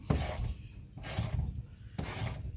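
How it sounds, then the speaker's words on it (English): Three bursts of ratchet clicking as car seat bolts (15 mm) are wrung loose by hand, each burst about half a second long with steady rhythmic pawl clicks, close and fairly quiet, with no talking. "you just have a better feel with the ratchet"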